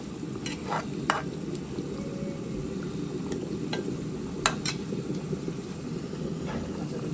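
Fish sizzles in a pan with ginger, a steady low frying hiss with a few sharp clinks of utensils, close and moderately quiet, no talking.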